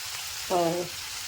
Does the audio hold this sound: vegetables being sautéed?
yes